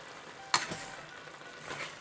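Pork and rinsed sour bamboo stirred together in a pot for a slow-cooked Hmong dish, a short sharp clatter followed by soft sizzling and another scrape near the end.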